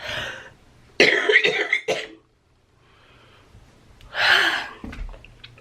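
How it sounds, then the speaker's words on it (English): A person coughs in a couple of harsh bursts with gasping breaths between, close to the listener. "I coughed."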